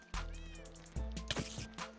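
Cats in the Minecraft video game give several overlapping, drawn-out synthetic meows over a faint steady game background hum.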